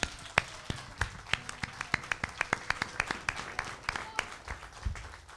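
An audience applauds during a special broadcast honoring a Turkish folk musician, with steady, rhythmic clapping close by that keeps a regular beat for several seconds before thinning out.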